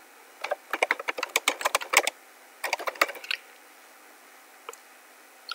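A password is typed on a computer keyboard: two quick bursts of close, crisp keystrokes, then a pause broken by a couple of isolated taps.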